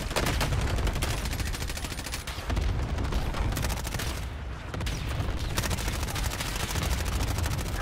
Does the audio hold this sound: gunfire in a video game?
yes